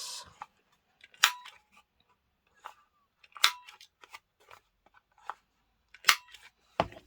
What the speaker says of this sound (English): let me trim those edges.